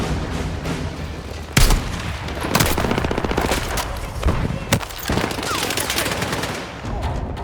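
Heavy gunfire in the Battlefield 6 video game: bursts of automatic fire and sharp shots with a couple of loud impacts, close and dense, mixed with game sound and voices.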